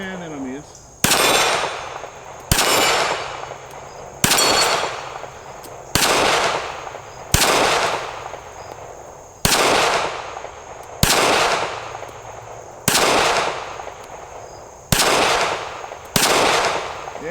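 A Ruger LCP MAX micro pistol fires at steel plates outdoors, about ten loud sharp shots spaced roughly every two seconds, each ringing out and decaying before the next.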